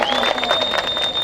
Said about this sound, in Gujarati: આપણે બધા માટે એકવાર જોરદાર તાળીઓ પાડી લઈશું